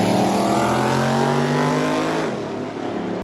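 The race car Lil Heavy Hustler, owned by Mike Couch, roars loudly with a sustained, close engine drone, its pitch climbing steadily under acceleration before briefly dipping as the driver shifts.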